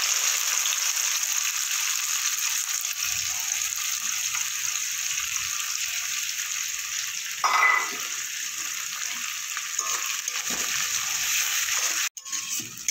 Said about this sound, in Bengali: এবার দেবো কুচনো পেঁয়াজ